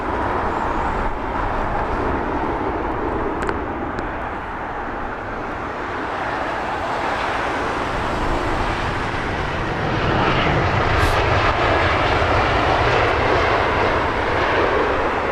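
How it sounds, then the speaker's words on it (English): Delta Airbus A330-200 airliner arriving at London Heathrow, a broad steady jet engine roar that swells slightly toward the end, heard from the airport without talk. "Our next catch on the arrival side will be Delta 16. It's an A330-200 in from Detroit."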